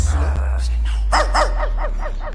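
A dog barks in a quick run of about six sharp yips and barks near a recycling centre, over a steady low engine rumble with a voice briefly in the background.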